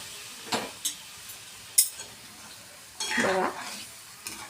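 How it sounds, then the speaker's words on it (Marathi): Hot water poured into a thick paneer masala gravy in a pan sets off bursts of sizzling and spoon stirring, loud close splashes near the start and a longer hissing sizzle in the middle, with no voices. "जे आपण गरम पाणी केलेलं आहे ते ह्याच्यामध्ये टाकून घेऊया."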